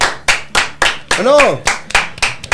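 Rhythmic hand clapping in a small studio during a Paraguay vs Colombia football broadcast, about nine sharp, evenly spaced claps close to the mic, with a voice talking over the middle of the sequence.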